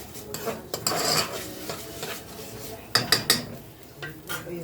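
Rice being drained in a metal pot at a home stove, with close clanking of the pot and lid, scraping and rattling in uneven bursts, and brief watery splashing.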